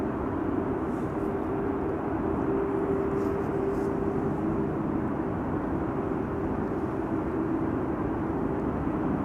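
KLM Airbus A321neo jet airliner arriving at Amsterdam Schiphol, a steady distant roar of engine noise that holds level throughout with a faint tonal whine, heard alone without talk.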